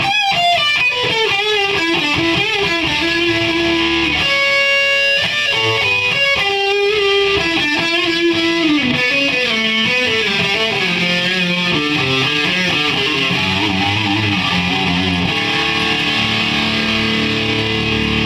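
An electric guitar played through distortion with the pickup selector in the middle position gives a warm, smooth tone, loud and continuous through a run of sustained notes and melodic phrases.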